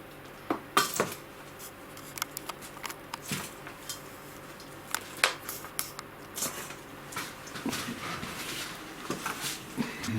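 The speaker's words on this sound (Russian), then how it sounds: "И новый грунт буду засыпать ложкой" A spoon scoops fresh potting soil into an orchid pot, giving soft scrapes and light clinks in an irregular patter, quiet and close, with no one speaking.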